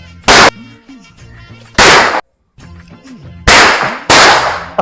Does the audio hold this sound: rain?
no